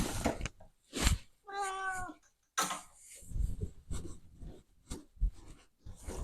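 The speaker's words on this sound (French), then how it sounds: "j'ai mon chat qui miaule" A pet cat meows several times indoors, close and clear, with short tonal cries separated by pauses and rustling, and no talk over it.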